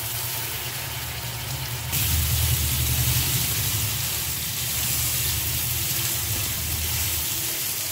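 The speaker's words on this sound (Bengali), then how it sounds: "এই যে আদা বাটা 1 চামচ দেবো" Ginger paste sizzles in hot oil during mutton kosha cooking, a steady moderate frying hiss that jumps louder partway through and then continues evenly, with a low background hum underneath.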